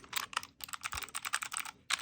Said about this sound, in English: when I'm typing a mechanical keyboard, I'm really expecting to feel like this, right? If it's a low profile one, or like this.